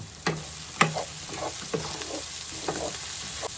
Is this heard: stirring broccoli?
yes